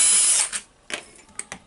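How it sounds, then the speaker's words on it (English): A short burst of power-tool whirring as screws are driven out of the housing of a Makita HR2450FT rotary hammer during disassembly, stopping after under half a second, followed by a few faint clicks of loose parts. "now I will unscrew the 4 screws here, and they are holding the motor housing with the hammer casing together"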